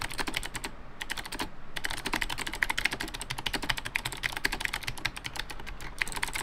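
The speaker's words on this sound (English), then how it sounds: "let's do a bit of a quick sound test of this keyboard" Typing on an NMB RT8756CNW keyboard fitted with black clicky Space Invader switches, a fast, dense run of sharp clacking keystrokes, close and loud, with no one talking.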